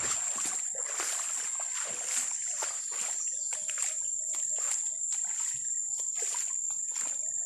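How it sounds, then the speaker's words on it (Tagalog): Strong water flowing after heavy rain, a continuous rushing with repeated splashes and sloshing, fairly close, with a steady high hiss over it. "Malakas ng tubig."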